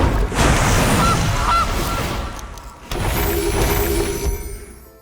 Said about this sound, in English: We will blink our goose.